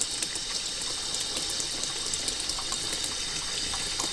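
Hot water pours steadily from a kitchen tap, a continuous broadband hiss and splash that stays close and fairly loud from start to finish, with no voices over it.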